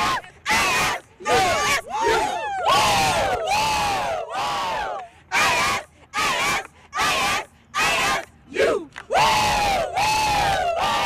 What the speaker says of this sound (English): Let's cheer!